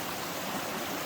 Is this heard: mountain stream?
yes